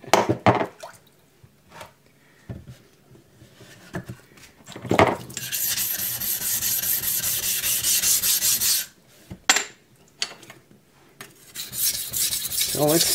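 A knife is ground on an Atoma 140 diamond plate: short scraping strokes at first, then a long, loud, continuous rasping stretch, a brief pause, and more gritty rubbing strokes close up.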